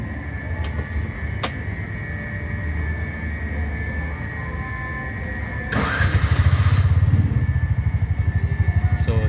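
A Bajaj RE FI 236cc single-spark three-wheeler engine with a check-engine fault idles with an uneven, stuttering chug, then surges into a louder, rougher running beat partway through, close up, with occasional clanks.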